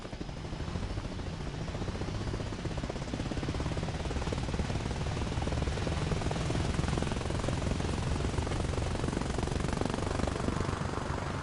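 A military helicopter in the video game ArmA Reforger, its rotor and engine producing a loud, continuous thudding roar that stays steady throughout with no talking over it.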